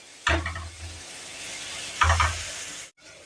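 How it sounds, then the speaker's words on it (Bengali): Boiled raw papaya stirred in a pan over a low flame, with two short bursts of scraping and soft sizzle separated by quieter stretches, close by. "দিয়ে এটাকে লো ফ্লেমে কিন্তু নাড়াচাড়া করতে থাকবো।"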